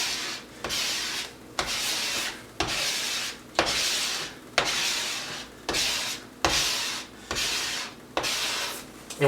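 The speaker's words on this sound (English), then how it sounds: "Start from the center, scraping straight down," A release liner being scraped straight down over adhesive on glass while face mounting a photo, heard as a steady series of about nine close, even rasping strokes, each roughly a second long with brief gaps between them.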